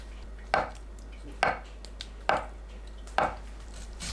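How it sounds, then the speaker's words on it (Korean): A knife cuts tofu into bite-size pieces on a board, making four evenly spaced, moderately loud chops about a second apart over a low steady hum. "두부를 한입 크기로 썰어줍니다"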